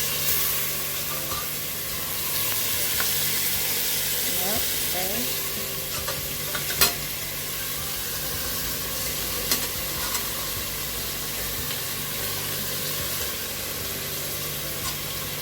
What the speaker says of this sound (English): here I have my pot on the stove heating up before I add my oil and my sugar to brown